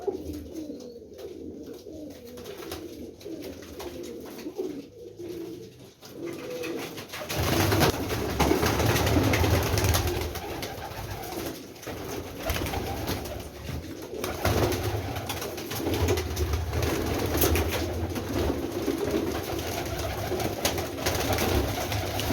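Domestic pigeons of fancy breeding stock coo repeatedly in a loft, soft rolling calls close by over a steady background hum, growing busier and denser partway through.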